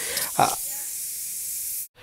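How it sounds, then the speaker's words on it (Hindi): A pressure cooker whistles in a home kitchen, a loud, steady rushing hiss lasting nearly two seconds before cutting off abruptly. "कुकर की सीटी की आवाज है"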